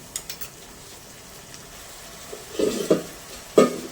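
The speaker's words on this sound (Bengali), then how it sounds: "এবার আদা রসুন বাটা 2 চামচ দিয়ে দিলাম" Ginger garlic paste spooned into frying onions for a curry leaf chicken curry: after a quiet low simmer, bursts of sizzling and stirring scrapes rise near the end.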